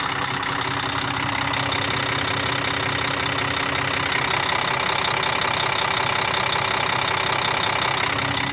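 A car engine idles steadily and continuously, a close, even mechanical rumble with a faint ticking knock running through it and no voices.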